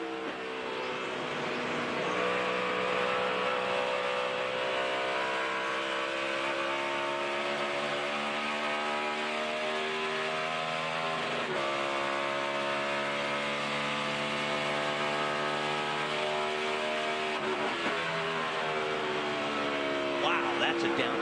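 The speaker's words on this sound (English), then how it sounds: "That's a downshift." Onboard NASCAR stock car engine at Pocono, 2011, roaring loudly and steadily, its pitch climbing and dropping through several gear changes, including a clear downshift.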